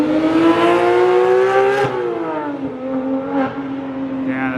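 Porsche 911 GT3 sports car engine revving up close at a car show, a loud rising howl that drops back and rises again in repeated bursts, with no talking over it.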